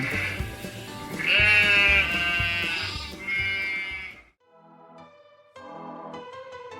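A sheep or lamb bleats loudly several times in wavering, nasal cries, with a short quieter gap before a final shorter bleat, close and clear, with no talking.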